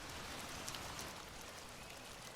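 Light drizzle falling outdoors, a steady soft hiss of fine raindrops pattering on a surface, low and continuous with no voices.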